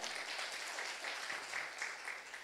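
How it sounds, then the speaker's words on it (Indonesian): Applause from a church congregation during a Sunday service, a steady patter of clapping hands that holds evenly for a couple of seconds, fairly faint and distant. "Yuk kita tepuk tangan buat Tuhan kita."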